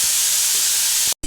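Paneer and mushroom masala frying in a pan, a steady close hiss and sizzle that fills the clip before cutting off briefly near the end.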